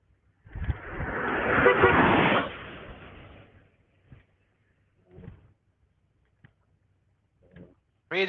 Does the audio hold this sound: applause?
no